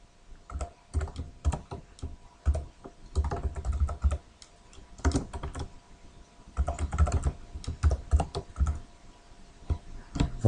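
Code is typed on a computer keyboard in close, irregular bursts of rapid key clicks, with short pauses between flurries and no speech.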